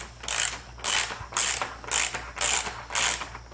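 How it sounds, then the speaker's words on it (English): A hand ratchet with a 16 mm socket threading bolts into plastic on a 2004 Subaru STi, loud close clicking in six even bursts with short pauses between strokes. "Just take your 16 millimeter socket and they'll thread in there really easy"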